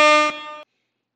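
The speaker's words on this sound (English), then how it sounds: "All right, that air horn was for our first two winners." A single air horn sound effect played in celebration blasts loud and steady for about half a second, then cuts off abruptly into silence.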